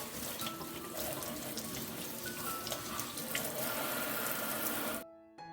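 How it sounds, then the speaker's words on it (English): Tap water runs steadily over parsley leaves being washed at a kitchen sink, a continuous close splashing rush that cuts off abruptly near the end. "Now I go back inside and wash the parsley leaves."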